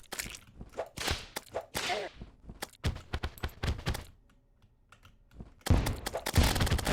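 Firecracker whip in Terraria cracking repeatedly, sharp snapping hits in quick irregular bursts with small explosions, a pause, then a denser loud flurry of pops near the end.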